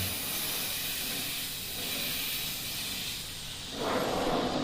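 A steady, even hiss of an airbrush spraying continuously through cotton wool, growing a little louder near the end, with no voices.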